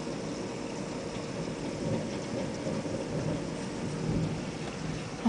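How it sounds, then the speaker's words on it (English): A heavy downpour pours steadily outdoors while low thunder rumbles under it, a dense continuous wash of rain with swelling rolls of thunder. "It was just pouring and then thunder, lightning."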